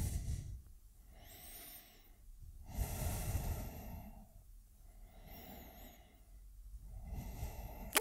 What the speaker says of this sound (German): atme tief weiter.